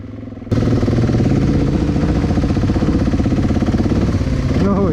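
A motorbike engine revs hard and steadily during an off-road drift at an adventure bike festival, loud and close, with a rapid throbbing pulse and pitch swells. It cuts in abruptly after a short quieter stretch.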